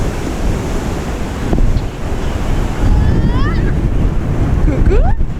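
Storm wind batters the microphone at Trestraou beach, a loud, rough rumble with gusting surges over breaking surf, while gull-like chirps rise faintly near the end.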